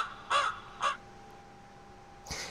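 Three harsh crow caws fire off a Temu V8 streaming mixing sound card's effect pad, two close together and a third after a pause, loud and clear over a faint steady hum.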